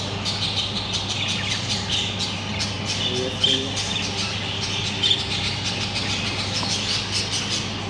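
Newly hatched bird chicks squawk in short, scattered calls over a steady, faint background hum, with two slightly louder cries standing out.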